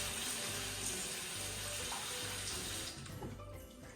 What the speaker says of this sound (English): I'm just getting some more water in the kettle